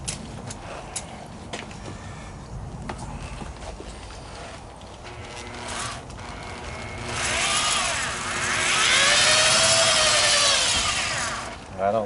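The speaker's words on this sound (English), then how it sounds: "I'm going to try polishing through here again." A power polisher works the paint of a '69 Camaro, starting as low scattered clatter and then swelling into a loud, rising whine that holds for several seconds before dropping away.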